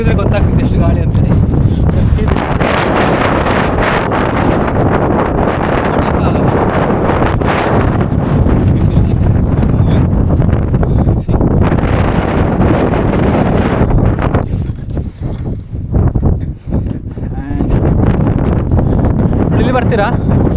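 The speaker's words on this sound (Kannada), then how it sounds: "ಉದ್ದ ಕೂದಲಿದ್ರೆ ಗೊತ್ತಾಗ್ತದೆ ಎಷ್ಟು ಗಾಳಿ ಅಂತೇಳಿ" Strong gusty wind buffets the microphone at a coastal viewpoint on the Bray Head trek, a loud continuous roar that swells and eases, dipping briefly near the end.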